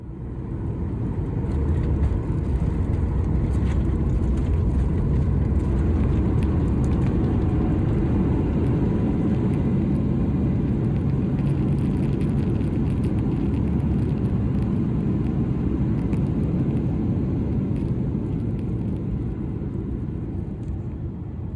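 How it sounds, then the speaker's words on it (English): A United Airlines Boeing 737 MAX 9 lands on runway 16 Left at Denver. Heard from inside the cabin, there is a loud, continuous, deep rumble with an even roar of engine and airflow that stays steady and close throughout, with no talking. "Now, enjoy the smooth landing on runway 16 left in Denver."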